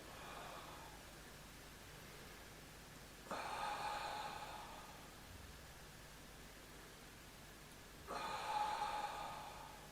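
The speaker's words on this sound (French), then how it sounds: "Quelques respirations profondes dans la posture." Slow, deep breaths held in a Pilates side-bend posture, three soft airy exhalations spaced a few seconds apart over quiet room hiss, close and gentle.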